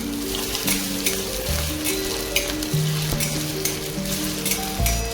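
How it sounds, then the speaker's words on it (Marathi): Thin-sliced potatoes fry in oil for fasting sabudana khichdi, a steady close sizzle with scattered crackle and occasional stirring scrapes, background tonal hum throughout, no talking. "ते आपल्याला तेलामध्ये टाकून व्यवस्थितपणे तेलात परतून घ्यायचे आहेत"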